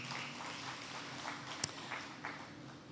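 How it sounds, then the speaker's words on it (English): Applause from an audience at a college tech lab launch event, a steady dense patter of many hands clapping at moderate distance, with one sharp louder clap standing out. "Round of applause."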